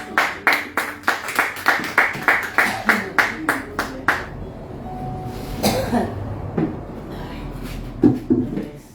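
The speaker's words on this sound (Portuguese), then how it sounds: "Aplauda." A church congregation claps in a steady, loud unison rhythm for about four seconds, then the beat stops and scattered coughs, shuffling and murmured voices follow in a quieter room.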